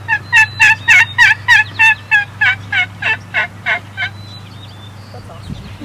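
A person imitates a wild turkey's cluck with a mouth call, giving about fifteen sharp, evenly spaced clucks that start loud and grow slightly softer, close and alone over a low steady hum.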